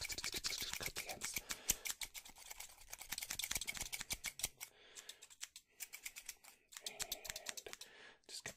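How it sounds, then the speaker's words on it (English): Rapid, crisp scissor snips close by, cutting the ends of hair, clustered in quick bursts with brief pauses between runs, no talking. "we're gonna bring two scissors in and just cut the ends of your hair."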